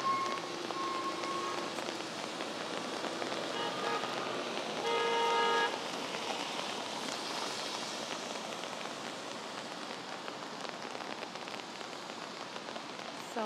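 Steady patter of rain drumming on an umbrella overhead on a city street in Singapore, with a distant car horn honking briefly and traffic faintly behind.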